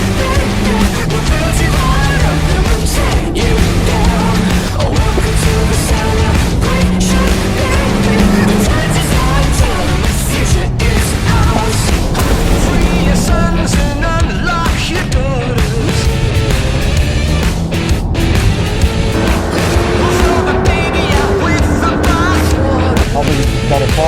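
A Mercedes A250e laps a race track at Balocco. Its engine drones loudly and continuously, rising and falling in pitch through gear changes, while someone talks over it at times.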